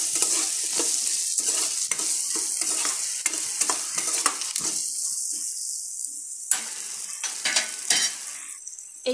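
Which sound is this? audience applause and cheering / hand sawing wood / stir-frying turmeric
stir-frying turmeric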